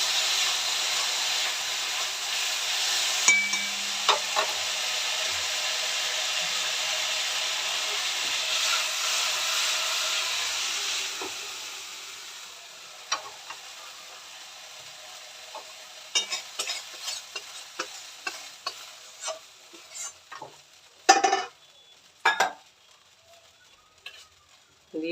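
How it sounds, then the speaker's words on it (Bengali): Cauliflower pieces frying in oil in a pan, a steady sizzle for the first half that then quiets into scattered stirring scrapes and clinks of a utensil against the pan, close and alone with no talk. "ফুলকপিটা ভেজে নিলাম বন্ধুরা"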